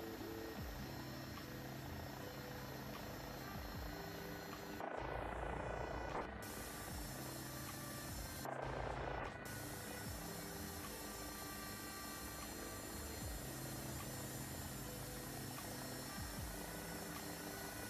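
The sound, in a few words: helicopter lifting off as collective is increased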